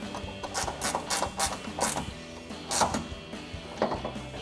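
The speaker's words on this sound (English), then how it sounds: "I'm gonna be taking this angled ratcheting wrench to tighten that the rest of the way down" An angled ratcheting wrench clicks in quick bursts of ratchet strokes while tightening a headlight mounting bolt on a 2019-2023 RAM 1500 pickup. The clicks are close and clear, with no talking.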